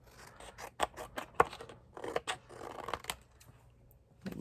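Scissors cut paper for a DIY print folder in a series of crisp snips and rustles, close and fairly quiet, with irregular spacing between cuts.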